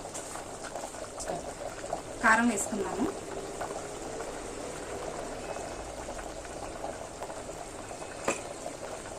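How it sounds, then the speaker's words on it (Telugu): Andhra-style mutton curry bubbles in a pot with a continuous soft boiling hiss and burble, a louder bubbling burst early on, steady and close throughout. "ఇలా ఉడుకుతూ ఉండగా ఈ వాటర్ కూడా కొంచెం బాగా దగ్గరకు వచ్చే వరకు ఉడకనివ్వాలి"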